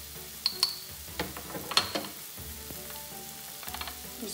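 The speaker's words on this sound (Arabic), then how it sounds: "نضيف البصيله والبورو ونخليهم يتشحروا" Chopped onion and leek sauté in a pan with a close, continuous sizzle. A few sharp utensil clinks and stirring scrapes cut through the frying.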